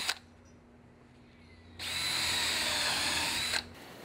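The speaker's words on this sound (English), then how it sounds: "you can also pre-drill your middle holes" A power drill whirs loudly for about two seconds as it pre-drills into a wooden 2x4, starting abruptly after a quiet pause and stopping sharply.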